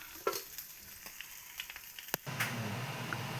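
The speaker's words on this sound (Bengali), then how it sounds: "সব মাছগুলো এরকম করে ভাজে নিব" Pabda fish frying in hot oil: faint scattered crackles give way to a steady, close, loud sizzle that holds to the end after a sharp clatter.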